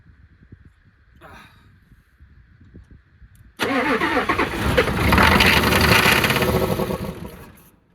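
A Ford F-350 diesel that sat for 19 years cranks quietly with faint talk over it, then catches and roars to life, its loud engine running rough and rising before easing slightly.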